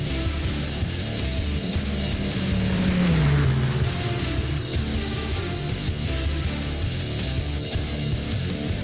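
An Audi R18 race car in the rFactor video game accelerating on the Le Mans circuit, a loud, close, buzzing engine note that climbs steadily in pitch under the throttle, with no talk over it.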